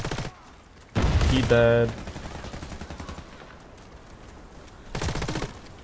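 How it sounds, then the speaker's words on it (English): Gunfire rattles in the console shooter Warface, with a short burst at the start, a louder rapid volley in the middle and another burst near the end. A player briefly speaks. "Especially with the aim assist in Warface."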